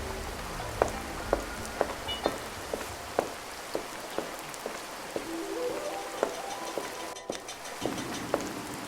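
Rain falls outside a village house at night, a steady hiss of patter punctuated by regular sharp taps, with a rising tonal line in the background.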